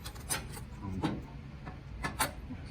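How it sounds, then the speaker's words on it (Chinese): A tool tightens a screw on a fully automatic roll laminator, heard as a few close scraping, rubbing turns with small metallic clicks and no voices. "再将这个螺丝的位置锁上"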